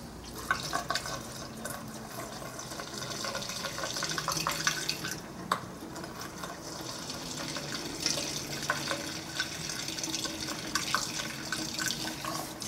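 Thirteen-year-old gas and oil poured through a funnel into an old engine, a continuous soft trickling and splashing of liquid that stays close and fairly quiet for the whole stretch.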